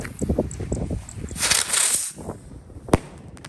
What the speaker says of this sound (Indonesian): Lanjut kita nyalakan mercon Kriko Big.